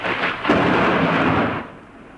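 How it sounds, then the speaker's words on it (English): A deep rumble of thunder rolls over steady, heavy rainfall, then fades away after a couple of seconds. "Listen to the thunder."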